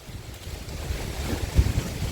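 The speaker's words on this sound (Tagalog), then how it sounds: "lakas ng hangin" Strong wind buffets the microphone in rumbling gusts, rising and falling with a rough low roar.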